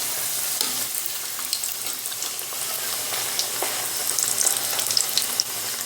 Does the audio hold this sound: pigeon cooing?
no